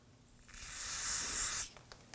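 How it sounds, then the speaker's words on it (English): A steady aerosol spray of solvent cleaner onto Volvo XC90 front brake parts hisses for about a second, close and fairly loud, then cuts off abruptly into quiet. "spray some solvent on here and clean them up"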